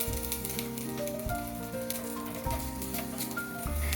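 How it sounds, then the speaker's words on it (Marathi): Ginger and garlic cloves roasting in a little oil in a small tempering pan, a faint steady sizzle heard under soft background music, with no speech. "एका तडक्या पॅनमध्ये आलं, लसणाच्या पाकळ्या आणि थोडे तेल घालून खरपूस भाजून घेतले."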